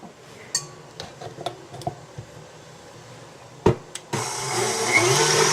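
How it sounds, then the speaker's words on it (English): A few light clinks and taps, then an electric mixer whirs on and runs steadily and loudly, like egg whites being beaten close by. "what I'm going to do with the egg whites is beat it up"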